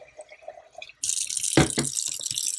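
Water runs from a kitchen tap into a glass jar for making pickles, starting abruptly as a steady close hiss with splashing as the jar fills, after a few soft handling knocks and no speech.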